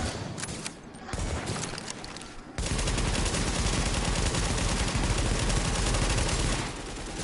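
Sustained machine gun fire in The Division multiplayer match, a sparse burst of shots giving way after a few seconds to loud, continuous automatic fire that runs almost to the end.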